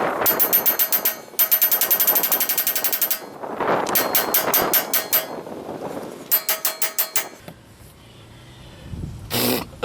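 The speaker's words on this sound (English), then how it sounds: "we'll keep hammering" A hammer strikes a Ford Explorer wheel bearing during a repair, in several loud, rapid metallic bursts of repeated blows separated by short pauses.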